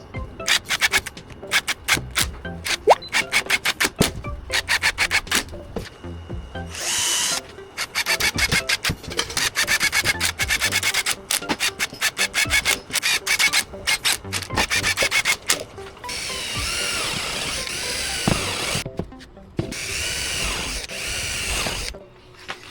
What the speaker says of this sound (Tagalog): Palitan nyo lang yung mga tornilyo.